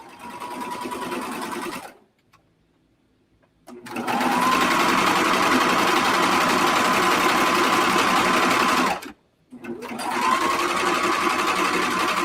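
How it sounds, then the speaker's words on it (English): A sewing machine stitches around a large pocket on wide-leg sweatpants, running in two long steady bursts with a brief pause between, loud and close, no speech. "so we're sewing around the second pocket"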